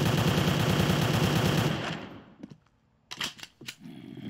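Rapid automatic gunfire from a modded gun in Minecraft, a dense burst of fast game shots lasting about two seconds, then a few separate single shots after a short pause.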